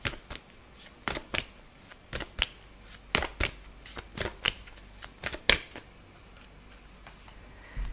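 Tarot cards are shuffled by hand in a series of sharp, crisp riffles and snaps, irregularly spaced over several seconds, close and fairly quiet with no talking.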